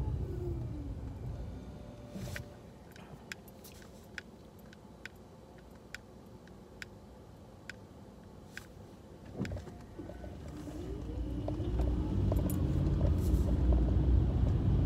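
A car drives slowly along a road on a foggy morning, a steady low engine and road rumble inside the cabin with a regular soft ticking, likely the indicator, and the drone swelling louder toward the end.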